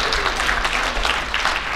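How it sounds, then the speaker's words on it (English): Audience applause at a school assembly, a brief burst of many hands clapping densely and fairly loud throughout. "How about a round of applause?"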